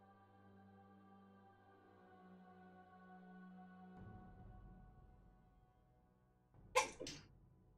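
A single sharp sneeze bursts out near the end after a quiet stretch of low background hum and faint music during a livestreamed tabletop Dungeons & Dragons session.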